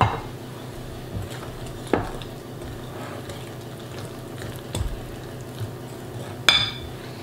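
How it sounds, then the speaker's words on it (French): A spoon works mashed bananas and melted butter together in a mixing bowl for banana muffins, giving scattered clinks and scrapes against the bowl at an irregular pace, close and fairly quiet with no talking. "Donc les bananes, on commence à mélanger."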